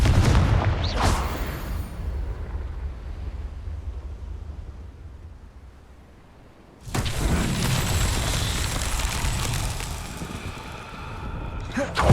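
A Confringo explosive spell blasting in the Hogwarts Legacy video game: a loud, rumbling boom fades into a long, noisy tail, then a second dense roar of blast and debris bursts in and holds to the end, with a voice heard over it.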